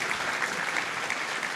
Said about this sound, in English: So she deserves an extra round of applause.